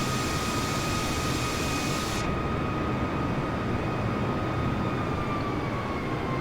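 An airplane in Microsoft Flight Simulator 2020 flies over Sydney, giving a loud, constant engine drone with a steady whine and broad rushing noise throughout, and nothing else heard.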